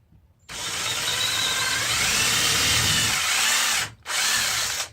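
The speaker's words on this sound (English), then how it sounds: "time to drill my hole for the lanyard" A power drill bores a lanyard hole through a hand-carved wooden piece. It gives a loud, steady whir for about three and a half seconds, stops briefly, then starts again.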